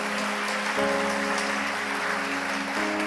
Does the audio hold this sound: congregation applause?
yes